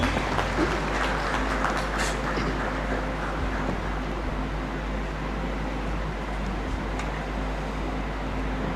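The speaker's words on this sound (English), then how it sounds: "Please let's welcome him with a round of applause" Steady audience applause fills the Great Hall at a university congregation ceremony, a continuous even wash of many hands heard from a distance over a low hum.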